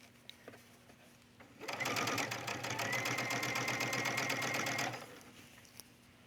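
A sewing machine stitches beside a shirt collar in one fast, rattling burst of about three seconds, loud and close, after a quiet lead-in with faint handling noise.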